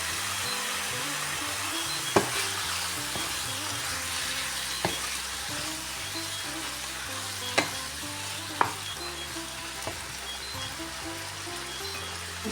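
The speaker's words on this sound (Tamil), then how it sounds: "கிளற போகிறேன்." Meat frying with salt and chili sizzles steadily in a pan while a utensil stirs it, scraping and knocking in occasional sharp taps against the pan.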